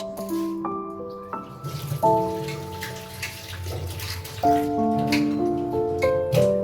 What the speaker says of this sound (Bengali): সবজি কাটা তো সব কমপ্লিট এবার হচ্ছে সবজিগুলো ধুয়ে নিচ্ছি